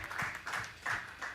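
Studio audience in a room applauding in short uneven bursts, a moderate scattering of claps and cheers that swells and fades several times, with no talking over it.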